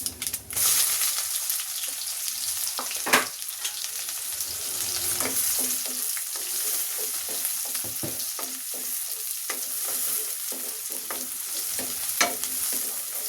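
Onion fries in a pan for a fish-head and Malabar spinach dish, with continuous close sizzling and irregular sharp scrapes and knocks of a spatula stirring, no voices.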